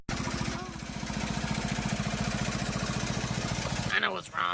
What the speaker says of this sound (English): He gave his ride-on lawnmower an upgrade.